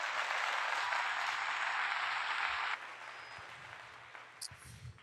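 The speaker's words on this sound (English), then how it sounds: "Round of applause for that." A round of applause, steady dense clapping from a crowd held at an even level for nearly three seconds, then cutting off to quieter scattered claps and faint room noise.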